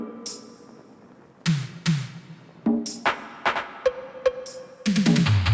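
Accent percussion from a post-punk beat layered together in FL Studio: tom, shaker, conga, bell, clap and cowbell strike in a loose rhythmic pattern of crisp hits, mid-pitched tones and short bright rings, with no voice over them.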